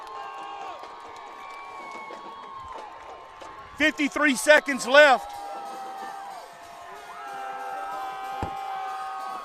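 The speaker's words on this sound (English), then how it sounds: "So this Pascagoula crowd's coming alive." Home crowd at a Pascagoula Panthers high school football game against George County swells into cheering and whoops in the closing seconds, with loud bursts of shouting midway under a commentator's steady play-by-play.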